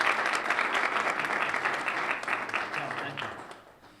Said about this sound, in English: Give a round of applause to Brian.